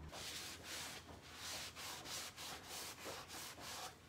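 Cloth wiping wax back off clear-coated chalk paint, a steady broadband rubbing swish in repeated strokes of about half a second, close and continuous with no voices.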